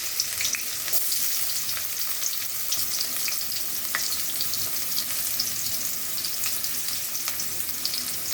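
Chopped onions frying in hot oil for fried rice, a continuous close sizzle and crackle with occasional sharper pops and light stirring; no talking.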